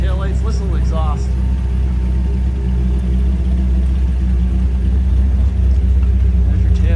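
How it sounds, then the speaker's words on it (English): A 2005 Dodge Viper SRT10 convertible with an 8.3-liter V10 and Tremec six-speed manual idles steadily, its deep exhaust rumble loud and continuous, with a person talking over it early on. "Listen to the exhaust."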